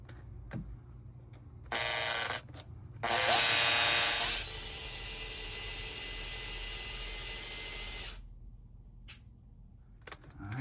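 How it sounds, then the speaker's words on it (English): A small power hand drill whirs steadily for several seconds while testing a military HMMWV speedometer adapter, rising to a louder, higher whine briefly before settling back, then stopping. "we're going to test it with a little hand drill"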